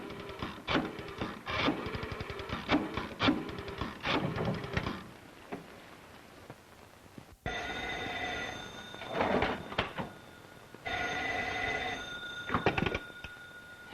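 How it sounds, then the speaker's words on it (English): Old telephone bell from a 1945 film ringing in repeated bursts, first a harsh rattling ring and then a brighter, more tonal one, with brief gaps between rings and no voices. "Call Garrick. If he's in, hang up."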